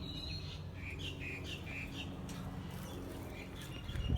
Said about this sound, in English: Little birds.